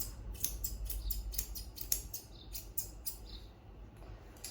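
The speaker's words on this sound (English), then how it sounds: "And anything that's hanging over, I'll trim off." Scissors trimming overhanging fur on a dog during grooming, heard as a steady series of quick, crisp snips close by, with no talking.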